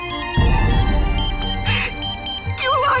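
A phone ringtone plays loudly and steadily, a bright electronic melody of repeating tones that carries on for a few seconds, with a brief low thump at the start.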